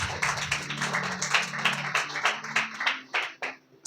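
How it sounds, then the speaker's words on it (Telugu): A church congregation at a Telugu sermon claps loudly in quick, fairly even rhythm for about three seconds, then the claps thin out and stop. "గట్టిగా చప్పట్లు కొట్టు."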